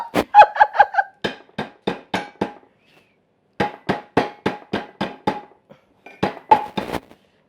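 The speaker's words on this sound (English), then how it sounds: "I'm just going to mash them with my pan bottom" Toasted almonds get mashed under the bottom of a pan, making repeated sharp metallic clanks in quick bursts of several strikes, separated by short pauses, close and loud.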